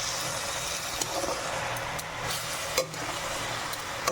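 Fried bahal greens with onion and tomato being stirred in a hot pan: a steady, close sizzle with occasional scraping clicks from the spoon.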